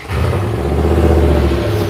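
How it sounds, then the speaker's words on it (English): Engine of a 2020 Nissan Titan pickup truck running just after start-up, a loud, steady low rumble with no voices over it. "let's start up and see what this sounds like"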